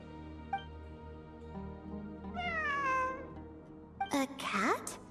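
A cat meows in the video game Genshin Impact, one drawn-out, gliding meow followed by a couple of sharper, higher mews, clear and close over a soft game music background.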